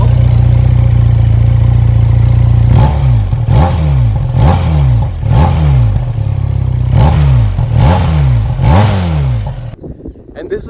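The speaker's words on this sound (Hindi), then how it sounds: "और अभी इसका जो अंडर बेली एग्जॉस्ट है ये सुनाता हूँ मैं आप लोग को।" A QJ Motor SRK 400 underbelly exhaust idles with a deep rumble, then is revved in a series of about ten sharp, rhythmic throttle blips, loud and close.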